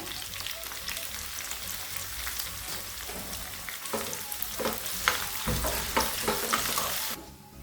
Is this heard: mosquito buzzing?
no